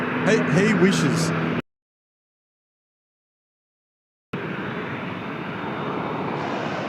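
A passing airliner roars steadily at Sydney Airport. The broadband engine noise is cut to silence midway before resuming, and a brief voice overlaps the start.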